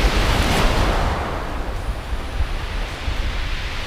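Sea waves breaking on the shingle at Hythe Beach, Kent, a loud, continuous rush of surf that swells at the start, then settles into a steady wash mixed with wind.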